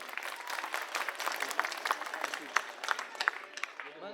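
Applause from an audience at an Aam Aadmi Party political rally in Kondli, Delhi, a dense, steady patter of many hands with sharper individual claps standing out, fairly close and continuous for about four seconds.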